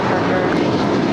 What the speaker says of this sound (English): here we have United 1276 off to Cancun. It's a 14-year-old 737-900 ER.